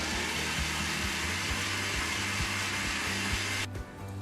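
A kitchen blender whirring steadily while mixing milk and sugar for cold coffee, a loud continuous motor hum with a regular pulsing beat that shifts near the end, with no voices.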